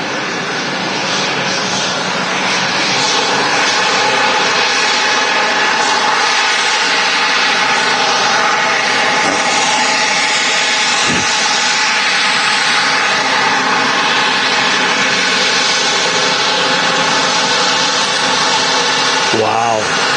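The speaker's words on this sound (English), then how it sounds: "KLM City Hopper Embraer coming in from Amsterdam Schiphol." A KLM Cityhopper Embraer jet arriving from Amsterdam Schiphol lands at Manchester Airport, a loud, continuous broadband engine roar that holds steady throughout, with people's voices faint beneath it.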